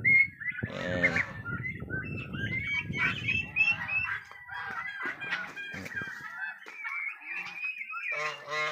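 Red Bourbon turkeys call close by in a farm pen, with a busy mix of overlapping gobbles, honking cries and clucks rising and falling over several seconds.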